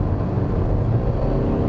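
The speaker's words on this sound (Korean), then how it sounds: "이렇게 대략 한 4000rpm 그때부터 이렇게 우웅하고 소리가 좀 이렇게 커지죠" A 2020 Kia Soul 1.6 T-GDI turbo engine pulls under acceleration, a steady, rough, bass-heavy drone heard from inside the cabin, continuous and moderately loud for under two seconds with no talk.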